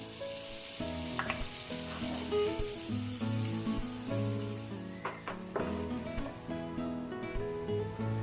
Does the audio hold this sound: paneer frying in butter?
yes